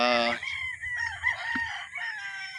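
A White Kelso rooster on a gamefowl farm lets out a loud, close crow at the start, then someone talks over the farm's background noise.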